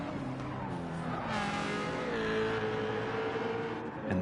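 Several GT3 race cars in a racing video game, a midfield pack on track, with engines roaring loud and continuous, revs rising and shifting as the cars jostle, plus a brief tire squeal near the end.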